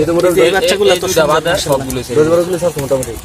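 Pigeons cooing close by in a loft in soft, rolling, throaty bursts, with a person talking over them.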